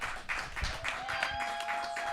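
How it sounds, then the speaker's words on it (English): An audience at an open mic night claps for a band, a short burst of moderately loud applause with some whoops mixed in. "One more round of applause"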